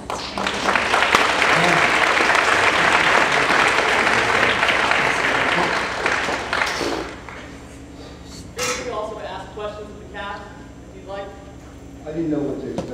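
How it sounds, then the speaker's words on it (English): An audience gives loud, sustained applause for about seven seconds, then it breaks off. Afterward there are scattered voices and some handling clatter close by. "You all deserve a really big round of applause."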